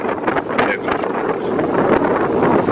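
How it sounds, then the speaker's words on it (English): Cold wind buffets an outdoor camera microphone, producing loud, gusty low rumbles and irregular bursts of wind noise that swell and ease throughout. "it's cold and windy out here today"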